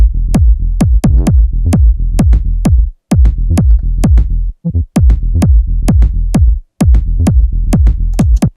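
A heavy, plucky synth bass in a tech house groove locks with a punchy kick drum, repeating in a steady four-on-the-floor pattern, loud and dry, with brief gaps between phrases.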